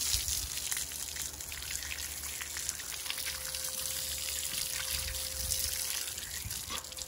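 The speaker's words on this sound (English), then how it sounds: "You just rinse the soap off." Water rinsing soap off a horse, a steady close trickle and spatter of running water with a faint tonal hum partway through and no talking.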